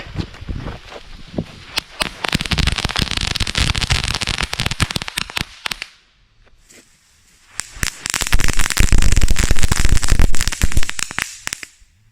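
Strings of firecrackers go off in two long, loud bursts of rapid crackling pops, with a brief near-silent pause between them.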